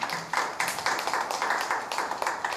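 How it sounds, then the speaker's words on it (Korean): Applause from an audience at a social cooperative presentation welcomes a speaker; a steady patter of clapping runs throughout, moderately close, with some individual sharp claps standing out and no talking over it. "박수로 모셔주시기 바랍니다."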